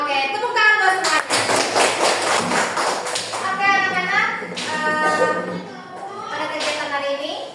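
Schoolchildren clapping their hands together in a classroom, a dense burst of rapid claps lasting a few seconds, with a teacher and kids talking before and after.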